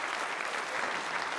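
Sustained applause from the audience for the candidates at a Conservative leadership debate in Toronto, a dense, even wash of many hands clapping with no speech over it.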